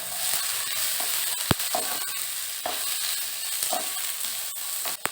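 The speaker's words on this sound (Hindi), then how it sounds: "अभी इसमें 2 हरी मिर्च ऐड कर लेना है, एक छोटा सा अदरक का टुकड़ा ऐड कर लेना है और 8-10 लहसुन की कलियां ऐड कर लेना है और मिक्स कर लेना है" Green chilli, ginger and garlic sizzle steadily in a hot pan, with a spoon scraping and clinking against the metal at intervals, close and alone.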